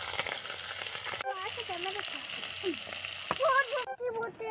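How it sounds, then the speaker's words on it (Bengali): Pholui fish fry in hot oil with a continuous bright sizzle, joined by faint tonal chirps like background voices or music running beneath it. "চলো মাছগুলো ভেজে নেব।"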